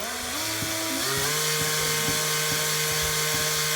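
A drill chuck spins steadily while winding copper wire into an electromagnetic motor coil, a continuous whirring hum with faint periodic ticks and rattles, close and fairly loud with no talking.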